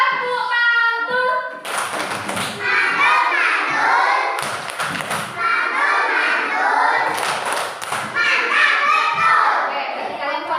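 Children in an Indonesian primary classroom do a rhythmic clapping routine, with bursts of sharp group claps set among their chanting voices and a teacher speaking nearby.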